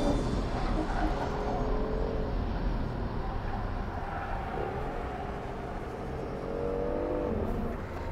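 BMW i8 AC Schnitzer accelerating around a race track, a continuous engine drone with rising and falling pitch sweeps as it pulls through gears, heard steadily over several seconds.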